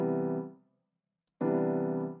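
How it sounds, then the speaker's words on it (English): A sustained chord with an added ninth on top, the D, rings out for about half a second and fades to silence, then sounds again a second later and holds steady, clear and close with no talk. "If we add the 9th, the D, it sounds like this."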